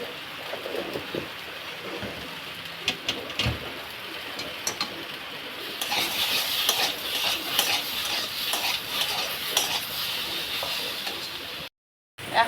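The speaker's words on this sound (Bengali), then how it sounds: "লবণ দিয়ে একটু নেড়ে নিই।" Vegetables being stirred in a pan after salt goes in, with scraping and clinking of a utensil against the metal over a steady sizzling hiss that grows louder midway, near and continuous, with no voices.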